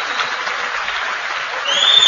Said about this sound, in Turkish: Evet, sıkı olsun alkışlar ya.